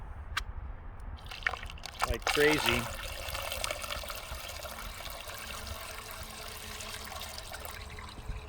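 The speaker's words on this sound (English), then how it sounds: "I can pour water in here" Water pours and splashes briefly into a clogged top drain opening on a Mazda MX-5 Miata ND, followed by steady trickling under a voice speaking close by.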